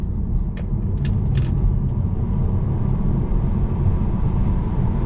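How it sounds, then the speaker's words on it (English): A Tesla Model 3 Performance driving off-road: a continuous loud low rumble of tires rolling over rough ground, with a few brief sharp clicks and knocks partway through. "Taking the Tesla off-road here"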